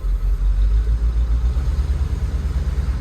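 A 1978 Jeep Cherokee engine running with a misfire, a loud, close, low rumbling idle with an uneven pulsing beat throughout and no talking.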